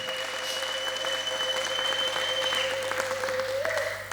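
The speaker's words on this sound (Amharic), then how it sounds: "እስቲ ለእግዚአብሔር ክብር አንዴ እንደገና ሞቅ ያለ ጭብጨባ አድርጉ" A church congregation claps warmly and steadily, a broad continuous wash of applause with a sustained tonal hum running underneath.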